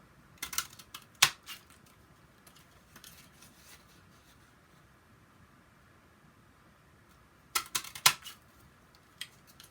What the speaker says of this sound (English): now I'm going to come down to this end and I'm going to cut these out